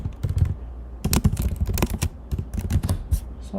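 Rapid clattering keystrokes on a computer keyboard, close and clear, in irregular bursts with short pauses between them.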